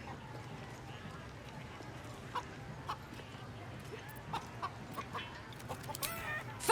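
A chicken clucks in a Baldur's Gate 3 chicken-chase minigame, giving faint, scattered clucks and footstep-like taps over a low ambient game background.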